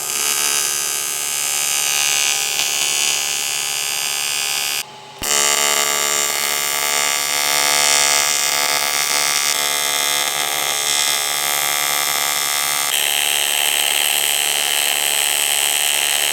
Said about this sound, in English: Get those welded up.